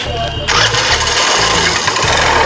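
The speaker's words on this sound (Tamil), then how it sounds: "இன்ஜின் கம்ப்ளைண்ட்னால தான் இந்த நாய்ஸ் வருது," Faulty vehicle engine running with an engine complaint, loud and close, a rough, pulsing mechanical drone with a harsh raspy layer over it, while someone talks over the noise.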